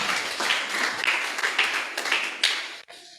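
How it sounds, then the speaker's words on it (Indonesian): Church congregation clapping together in a short burst of praise, a dense patter of many hands that holds steady for a few seconds and then cuts off abruptly. "Beri tepuk tangan bagi Tuhan Yesus, haleluya."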